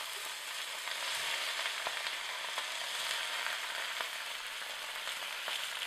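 Vegetables frying in a pan give off a continuous even sizzle with faint clicks of stirring scattered throughout, close by and with no voices.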